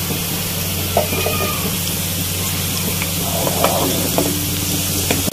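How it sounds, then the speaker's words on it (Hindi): Onions, chillies and cumin fry in a pan for a restaurant-style mixed dal, a continuous close sizzle and spatter with a low hum beneath and a few louder pops. "प्याज हम थोड़ा पहले से फ्राई करना स्टार्ट कर देते हैं"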